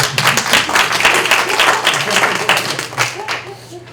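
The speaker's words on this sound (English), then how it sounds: "I just want to give her a round of applause, please." A workshop audience claps for a helper, with dense, steady clapping that keeps going for the whole stretch, loud and close. Scattered voices and cheers can be heard mixed into the applause.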